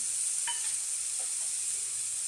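Ginger, garlic, cinnamon and cardamom frying in a pan for paneer tikka masala, a steady bright sizzle with a couple of brief clinks of a spoon stirring.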